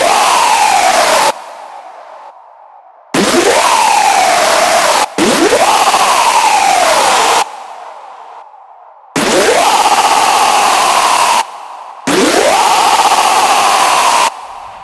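Loud synth screech patch built in Serum 2, blasting in long sustained bursts with sweeping, wobbling tones, cut off by short gaps of silence.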